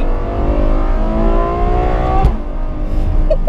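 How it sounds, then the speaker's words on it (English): A Ferrari F12 TDF V12 engine revs hard and loud up close, its rising harmonic tone steady until a sharp gear shift cuts in with a crack, then the engine pulls again at a lower pitch. "That gear shift!"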